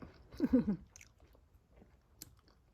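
Someone chewing meatballs close up outdoors in a Swiss garden, a brief burst of wet crunchy bites followed by a few faint chews and small clicks.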